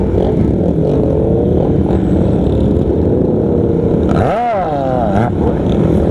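A group of motorcycles ride along a road in Pampanga near Clark, engines rumbling loudly and continuously, with one machine revving up and down in a distinct sweep near the end.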